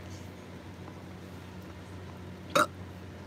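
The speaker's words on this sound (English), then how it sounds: "But she definitely got some burps for y'all." A single short, abrupt burp from a woman during a live stream, loud and close, standing out sharply against an otherwise quiet, faintly humming room.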